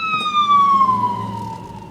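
An ambulance siren wails in a single long, falling tone, moderately loud over a low traffic rumble.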